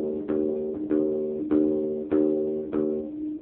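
Plucked guitar strings ring out one after another while being tuned, six evenly spaced notes each left to sustain and fade, close and clear with no talking.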